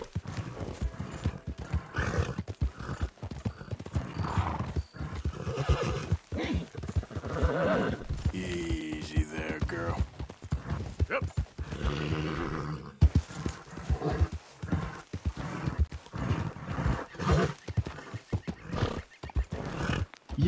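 A horse in the Red Dead Redemption II video game neighs and whinnies while its hooves clip-clop steadily, clear and fairly close, with game ambience around it.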